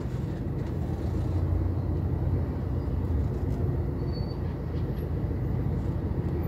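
A steady, dense rumble of engines and tyres fills a traffic jam under a bridge in Bhiwandi, a continuous near roar with no breaks or individual horn blasts standing out.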